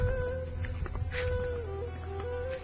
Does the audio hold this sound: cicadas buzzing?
yes